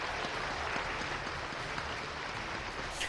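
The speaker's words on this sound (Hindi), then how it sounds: "मोदी के लिए तालियां बजा रही ऑडियंस में आईआईटी दिल्ली से पास आउट हुए इंजीनियर्स हैं।" Faint, steady applause from an audience of IIT Delhi graduate engineers, a soft continuous patter of clapping heard at a distance.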